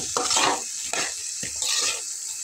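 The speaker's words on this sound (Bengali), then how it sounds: "সব একবারে খুব ভালো করে নেড়ে চেড়ে কষাবো।" Ginger, garlic and cumin spices are stirred and fried in a pan for khesari dal, a loud close sizzle with a few scraping spatula strokes across the pan and no voices.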